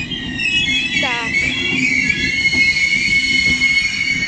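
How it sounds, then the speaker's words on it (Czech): A passenger train departing on the Nepomuk to Horažďovice line, close by with a steady rumble of wheels on rail, a brief squeal and a continuous high whine, with people talking faintly in the background. "Budete tam mít odjezd mýho vlaku"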